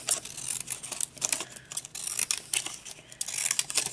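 Scissors snip through paper for a handmade beach-themed card, a run of quick close crisp cuts and rustles with small irregular pauses.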